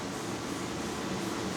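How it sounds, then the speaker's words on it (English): A furnace running with a steady, even blowing hum and low rumble, constant throughout with no other sounds. "Sorry for the furnace noise."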